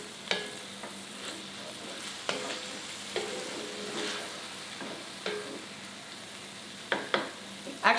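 Ground beef being sautéed with minced garlic in a hot pan, a steady sizzle broken by scraping spoon strokes against the pan at irregular intervals, close and moderately loud, no talking.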